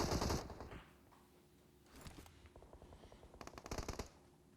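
PUBG Mobile gunfire in a Miramar esports match, an opening loud burst, then quieter scattered shots, building to fast rhythmic automatic bursts toward the end, fairly distant and without talk.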